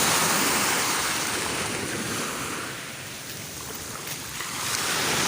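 Sea waves wash steadily onto the shore at a village beach, with broad, loud surf noise that swells, eases and builds again, mixed with wind buffeting the microphone.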